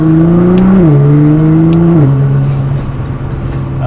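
A Nissan GT-R Black Edition on its stock tune pulls hard under turbo power, its loud, close engine note climbing and dropping through two quick gear shifts before easing off toward the end.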